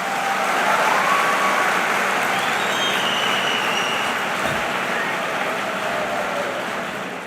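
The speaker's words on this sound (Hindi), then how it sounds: "देखो ताली बजाई है तुमने" An audience at a motivational talk for students claps together in a dense, continuous wash of applause that holds steady and then tapers slightly toward the end.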